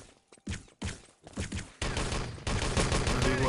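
Gunfire in the video game Enemy Territory during a 3on3 match, several sharp single shots in quick succession followed by denser overlapping bursts, loud and close.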